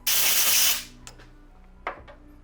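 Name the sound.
air blowout clearing chips and debris from rifle counterbore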